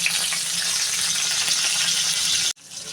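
Green chillies sizzle and spit in hot oil in a kadai, a loud, dense, steady frying hiss that cuts off abruptly near the end, followed by quieter kitchen noise.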